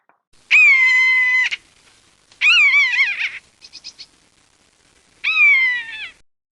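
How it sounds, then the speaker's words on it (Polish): A common buzzard calls three times, each a loud, drawn-out mewing cry that slides downward at the end, with a few short softer notes between the second and third calls. "myszołowy"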